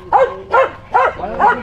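A dog barks four times in a steady rhythm, close and fairly loud, each bark a short yelping bow-wow.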